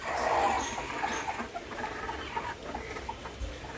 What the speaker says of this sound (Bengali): আর পিছন দিকে মোরগটা রয়েছে